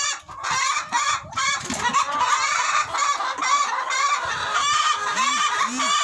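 Free-range hens clucking close by in a busy chorus of short, repeated calls, with a couple of drawn-out squawks near the end.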